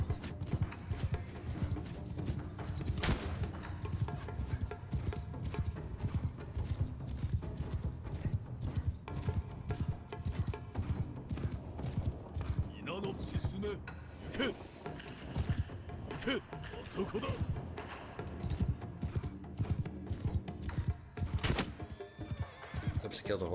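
Horses in the video game Shokuho clatter in rapid galloping hoofbeats, with whinnies and neighs breaking through the busy, continuous battle noise.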